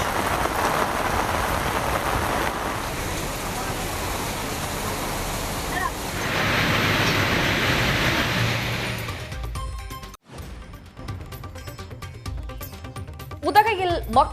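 Summer rain falls in Tamil Nadu towns, a steady hiss of drops on surfaces for about nine seconds, then gives way to quieter, different sounds with some talking.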